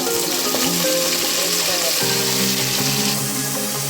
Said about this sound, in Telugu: మెంతాకు ఆయిల్ లో ఫ్లేమ్లో నూనె తేలేంత వరకు పచ్చివాసన పోయేంత వరకు వేసుకోవాలి